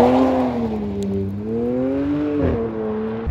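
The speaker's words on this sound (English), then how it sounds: "the way the launch control works, you put the car into Sport Plus, and then you put it into manual mode" A BMW E89 Z4 35i held on launch control gives a loud, steady engine drone whose pitch wavers slightly up and down while it waits to launch.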